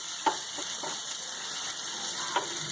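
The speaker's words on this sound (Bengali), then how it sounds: "এবার আমি একটু গোটা তেজপাতা জিরে দিয়ে ভাজা ভাজা" Whole bay leaves and cumin seeds sizzle in hot oil in a pan, a steady close crackling hiss with a few sharper pops, no voices.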